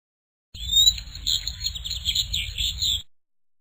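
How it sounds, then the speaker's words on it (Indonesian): Birds chirp and tweet in a steady, high-pitched chorus that lasts a few seconds, with no talking. "Suara burung."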